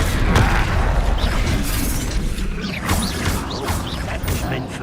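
A Confringo spell explosion from Hogwarts Legacy bursts with a loud, rumbling blast, followed by crackling debris and mechanical clatter amid ongoing combat noise.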